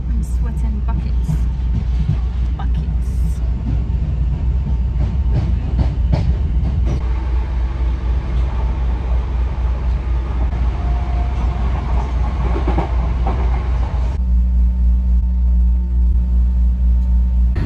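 Steady loud rumble of a passenger train running on rails, heard from inside the carriage with continuous low roar and clatter, shifting in tone near the end; voices talk faintly beneath it.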